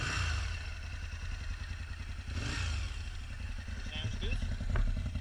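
An Aprilia RSV V-twin motorcycle engine runs with a deep, throbbing low rumble and slight revving near the end, heard close and steady, with speech-like sound over it.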